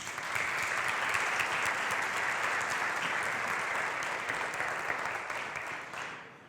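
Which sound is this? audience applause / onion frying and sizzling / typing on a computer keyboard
audience applause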